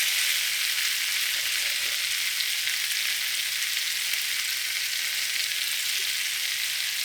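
A smashed burger patty for a patty melt fries in a hot pan with a steady, even sizzle that stays loud and close the whole time, with no talking.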